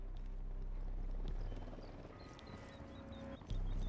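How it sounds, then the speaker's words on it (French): An enemy Unidad helicopter approaches in the video game Ghost Recon Wildlands, a faint, distant rotor drone under a quiet game ambience that ends in a sudden louder burst. "Hélico de l'Unidad en approche."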